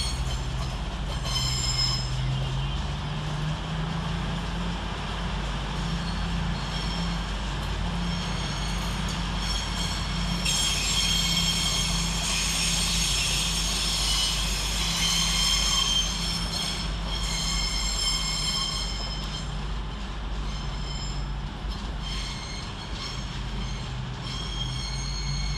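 A diesel passenger train, an East Midlands Railway unit bound for Sheffield, departs London St Pancras station, a constant rumble with wheels squealing in a long high whine partway through.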